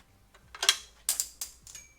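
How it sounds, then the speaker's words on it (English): A bicycle dropper post cable being trimmed with a cutter: three or four sharp, close metallic snips and clicks in a quiet room. "Let's trim this cable down and see if it works."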